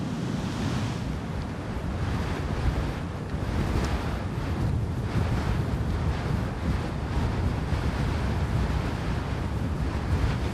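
Sea waves and steady wind on the Cape Verde coast of the Atlantic, a continuous broadband roar of surf washing in with gusting wind noise, loud and unbroken throughout with no voices.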